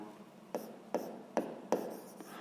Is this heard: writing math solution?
yes